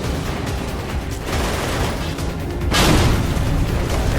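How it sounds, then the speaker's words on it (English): Dense rapid gunfire and booming explosions from the racing combat video game Full Auto 2 on PS3, a loud continuous barrage with a heavier blast surge near the end. "I'm shooting at you."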